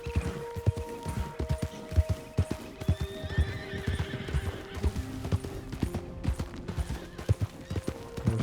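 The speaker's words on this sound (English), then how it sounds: "Horses." Horses whinnying and neighing in the video game Red Dead Redemption II over a steady clip-clop of hooves, with faint distant pops in the background.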